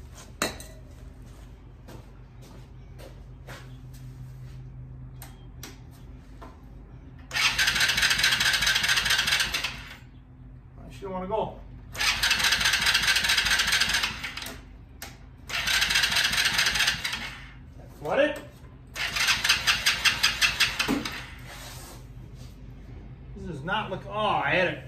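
An old go kart engine is cranked over and over without catching: four loud, rattling mechanical bursts of a few seconds each, separated by pauses, with brief voices in the gaps.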